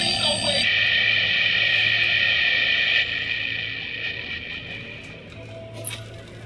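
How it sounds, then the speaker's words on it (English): An alarm clock rings in the video game Alan Wake Remastered, a loud, steady electronic buzzing tone that holds for several seconds and slowly fades, ending with a short sharp click. "Can't you hear that? Oh, God, help us. It's an alarm clock."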